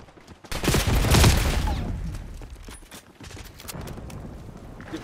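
A burst of rapid gunfire from a Call of Duty: Black Ops 6 firefight, loud and dense for about a second, then fading into scattered quieter shots and rumble.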